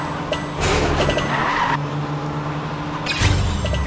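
A car driving in a PJ Masks video game, a steady engine drone with bursts of brighter whooshing and effects layered over it, loud and continuous.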